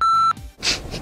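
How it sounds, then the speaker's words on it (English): A short, steady electronic censor beep masks a swear word, sounding alone for about a third of a second before cutting off into quieter background noise. "They seriously censored out the word crap."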